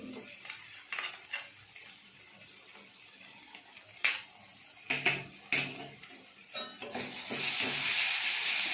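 Ginger and cumin hitting a hot pan of spices for a pointed gourd and prawn curry, stirred with a utensil in scattered scrapes and clinks, and a louder sizzle rising near the end.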